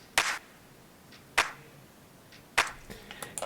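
Layered clap sample without OTT compression, three dry, short snappy hits spaced about a second apart, followed by a few quieter scattered ticks, close and alone with no voices.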